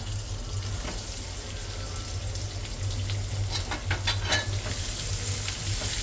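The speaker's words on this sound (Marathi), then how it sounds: "आणि आपण बॉईल केलेले हे चॉप्ड पटॅटो घालूया" Boiled chopped potatoes fry in spiced oil in a pan, giving a steady, close sizzle. Scattered clinks and stirring sounds grow slightly louder midway.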